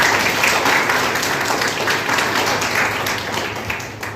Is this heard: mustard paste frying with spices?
no